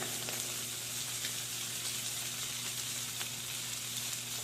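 Chicken chop cheese sizzles steadily on a hot griddle while a sandwich is made. A close, continuous hiss and crackle runs throughout over a low hum, with a few faint scrapes.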